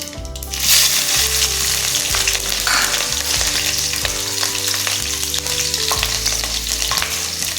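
Mustard seeds, cumin and green chilli frying in hot oil: a loud, continuous close sizzle with crackling and occasional spoon stirs, steady from start to end with no voices.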